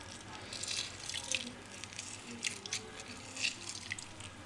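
Fresh lemon juice drips and trickles into a homemade iftar drink, a soft, uneven run of small liquid splashes close by, with no talking.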